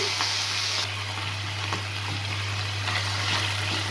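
Boiled bottle gourd greens and flat beans hit a pan of frying onion and garlic, setting off a constant close sizzle over a low steady hum.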